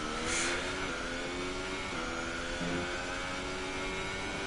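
Formula racing car engine in a racing video game, starting a lap on super soft tyres: a steady high-pitched engine whine holding near constant revs with slight pitch shifts, continuous and alone.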